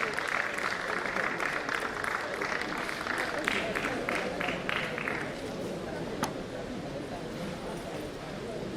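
An audience at a swearing-in ceremony applauds a guest, the Nigeria Dental Association chairman: thick, continuous clapping for about five seconds, then a softer crowd murmur with a single sharp knock.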